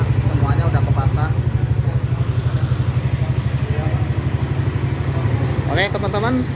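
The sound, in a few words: Honda Vario 150 motorcycle engine running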